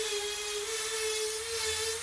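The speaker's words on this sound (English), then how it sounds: "Gonna go with a sanding bit on the Dremel." A Dremel rotary tool with a sanding bit grinding down a ridge on a motorcycle handlebar, a continuous high-pitched whine holding steady with slight wavering, close and loud with no talking.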